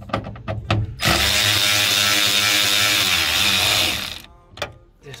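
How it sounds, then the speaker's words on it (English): A hand ratchet clicks loudly and close while loosening bolts on the sliding door of a 2005-2012 Honda Odyssey, a few separate clicks followed by a long continuous buzzing ratchet run, then more single clicks. "Now the next step is we need to remove these two bolts"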